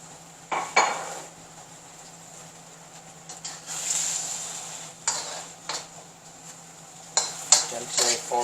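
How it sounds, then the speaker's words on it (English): Seafood going into a vegetable stir fry in a pan, with clinks of a utensil against the pan and scraping stirs over a steady low sizzle, close and moderate in level. "Now we're going to add in the seafood"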